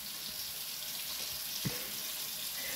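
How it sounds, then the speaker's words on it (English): Water runs from a tap into a cup in a steady, hissing stream that holds close and even throughout, with a small clunk partway through. "Fill up your cup with water."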